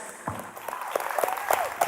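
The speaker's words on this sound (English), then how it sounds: "One more round of applause for them." A church audience claps for a band after a live rock song, a steady burst of close applause that swells slightly toward the end, with no talking.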